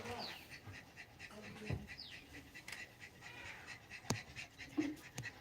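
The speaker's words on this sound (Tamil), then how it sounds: "ஒரு நாய்க்குட்டி பேரு டிட்டு, இன்னொரு டாக் பேரு ப்ரூனோ." A puppy pants close by in quick, breathy bursts, while bird chirps and a few sharp clicks and knocks sound in the background.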